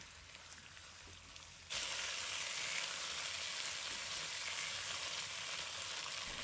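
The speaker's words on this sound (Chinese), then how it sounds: "继续翻炒一下。" Shiitake mushrooms go into a hot pan with oyster sauce and start sizzling, a faint hiss that jumps to a louder, steady crackling fry and continues evenly with nobody talking.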